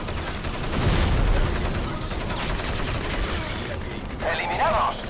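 Bursts of automatic gunfire crackle through a dense, noisy firefight in the PC shooter Crysis Warhead, with a mechanical rattle and whine rising near the end.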